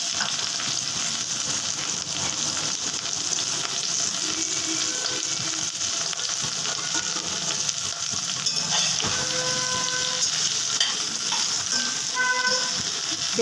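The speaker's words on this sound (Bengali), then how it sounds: "বেগুনটা একটু ভাজা হলে তারপরে একটু লঙ্কা দেব," Eggplant pieces frying in hot oil with salt and turmeric, a steady close sizzle throughout with occasional scraping clinks of a spatula stirring the pan.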